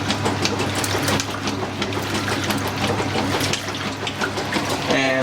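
Water runs steadily into a 1996 Whirlpool washing machine and a Kelvinator K605 washing machine, a continuous close rushing fill with a low mechanical hum underneath and no talking.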